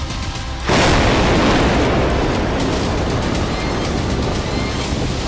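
An anti-tank missile strikes an armored vehicle: a sudden heavy blast erupts after a brief quiet moment, followed by a sustained loud roaring rumble that continues without letting up.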